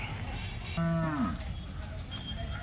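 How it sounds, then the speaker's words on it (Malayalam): A single cow or bull lets out one clear, fairly close moo lasting about half a second at the Vaniyamkulam cattle market, over a constant murmur of market background noise. "ഉള്ള കന്നുകാലികളൊക്കെ നമുക്ക് കാണാം"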